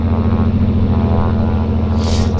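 A floatplane engine drones loudly at Vancouver Harbour as the throttle is worked, a steady low rumble with a rising burst near the end.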